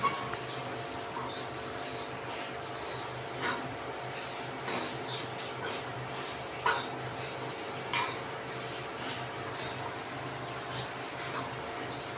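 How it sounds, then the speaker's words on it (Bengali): Grated coconut is stirred in a pan over a low flame, a spoon scraping the metal in steady rhythmic strokes about every half second, close and clear. "আমি যেভাবে নেড়ে যাচ্ছি নাড়াতে হবে এবং লাল যতক্ষণ লাল ভাবটা না আসছে ততক্ষণ আপনারা হালকা ফ্লেমে নারকেল ফুলটা নাড়াতে থাকবেন"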